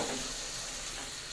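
Chili, shallots and garlic frying in hot oil give a steady, close sizzle and hiss, alone and continuous for just over a second.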